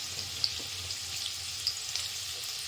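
Onion and garlic frying in oil in a pan for a Tamil fish curry, giving a steady, soft sizzle with a few small pops and light clicks throughout, with no voices.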